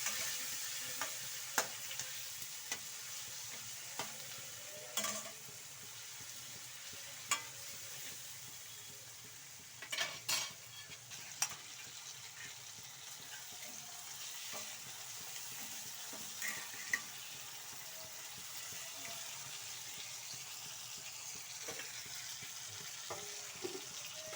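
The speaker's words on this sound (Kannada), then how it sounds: "ಅರಶಿನ ಪೌಡ್ರು ಚುಕ್ಕೆ ಗರಂ ಮಸಾಲ ಎಲ್ಲ ಹಾಕಿ ಒಂದ್ಸಲ ಫ್ರೈ ಮಾಡ್ಕೊಬೇಕು" Turmeric powder and garam masala fry in a pan for capsicum chitranna, a soft, low sizzle with occasional spoon clicks and scrapes as the spices are stirred.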